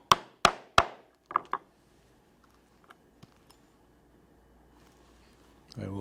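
A 1/8 inch thonging chisel is struck through tooled leather for a Christmas stocking, giving three sharp, close mallet knocks followed by a few lighter taps, then quiet.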